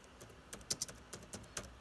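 Laptop keyboard being typed on during a key test, a handful of separate crisp clicks spaced irregularly, close and fairly quiet.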